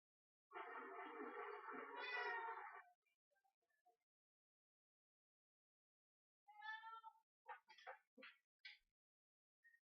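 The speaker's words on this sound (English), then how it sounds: "And he just meowed." A house cat meows close by indoors during a Sega CD game session: one long drawn-out meow, a pause, then a cluster of short chirping calls.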